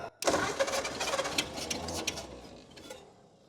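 Abandoned 1938 Ford flathead barn-find engine cranking and trying to start: an abrupt, loud starter churn with uneven chugging that fades toward the end without catching.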